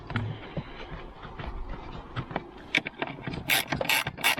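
Screws being tightened by hand on the air filter housing of a 2018 GMC Terrain, giving a run of close ratcheting clicks and small mechanical ticks that get sharper and louder toward the end.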